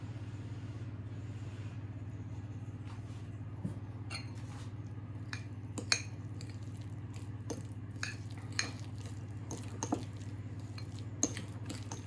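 Butter is mixed with a utensil for garlic bread, giving soft scattered clicks and scrapes against a bowl over a low, steady background hum.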